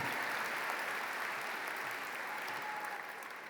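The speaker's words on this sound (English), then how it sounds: "give him a big round of applause, please" Audience applause at a high school commencement ceremony for the class of 2023, a broad steady wash of clapping from a large crowd that holds evenly before thinning slightly at the end.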